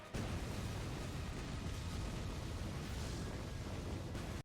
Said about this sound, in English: Each tag summons more tags, resulting in concentrated and focused consecutive explosions.